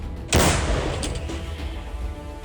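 A single loud artillery gun blast booms out suddenly, followed by a long rumbling decay and echo fading across the open air.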